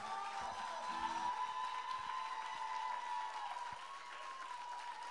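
Applause for an act at a Belgian televised song contest final, a broad wash of clapping under a held sustained musical tone, with faint crowd noise and no talk.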